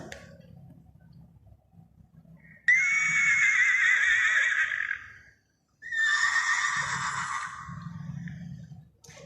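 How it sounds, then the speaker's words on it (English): A horse whinnies twice in loud, drawn-out calls separated by a short pause, with faint low background noise between them and no talking. "This is the sound of horse"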